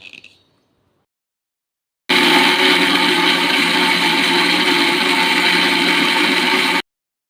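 A mixer grinder blends peanut chutney in a steady, loud whirring roar lasting about five seconds, then cuts off abruptly after a brief silence.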